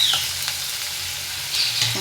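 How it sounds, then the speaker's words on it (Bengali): Onions fry in a hot pan, a close, even sizzle with a couple of brief louder crackles or stirring scrapes, and no talking. "দেখো পেঁয়াজটা আমার ভাজা ভাজা হয়ে গেছে।"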